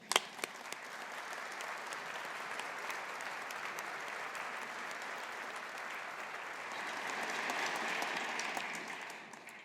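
Sustained audience applause at a Strathclyde Business School graduation ceremony, a steady wash of many hands clapping that holds for nearly ten seconds and swells slightly toward the end, with no speech over it.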